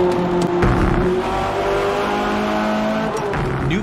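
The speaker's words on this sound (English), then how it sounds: "Every tire squeal, every engine, lap after lap." A race car in the Forza Motorsport video game roars close and loud with shifting engine tones and brief tire squeals, with no voices.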